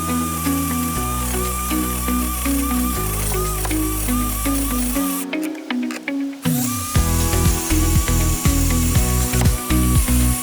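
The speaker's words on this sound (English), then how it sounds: "we're gonna start drilling this out" Power drill grinding loudly and steadily into the front seal of a Cummins ISX diesel engine, with sustained motor whine broken by a brief pause partway through, then bursts of stuttering, ratcheting bites.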